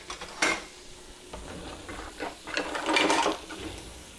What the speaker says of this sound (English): I'm gonna use a softer spoon here so I'm not making such a mess and such noise